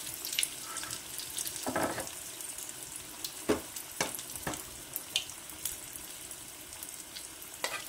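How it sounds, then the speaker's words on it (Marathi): Bread patties slide into hot oil one after another, giving a soft ongoing sizzle broken by short splashy bursts and clicks, fairly quiet and close. "तेल तापलेलं आहे त्यात मी हे सोडते आहे"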